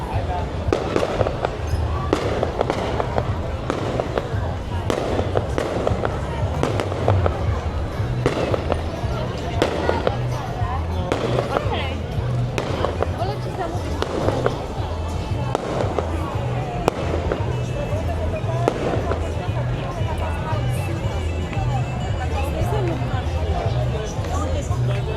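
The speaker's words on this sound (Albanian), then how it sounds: "U tremën prej zhurmës e fishekzarëve." Fireworks crack and pop in a steady rapid series during summer-season celebrations in the seaside town of Saranda, Albania, with a crowd's chatter and a nearby voice talking throughout.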